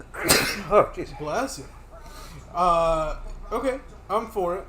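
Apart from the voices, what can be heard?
sneeze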